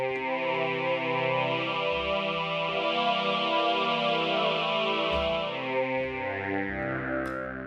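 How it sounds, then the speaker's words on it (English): Sustained synthetic choir pad resembling the old Roland VP330 vocal synth, played through a vocal filter, with chord changes shifting the low notes and a wide, chorused, reverberant wash held throughout. "a kind of synthesis choir, which is very similar to the choirs you get from the older VP330 from Roland"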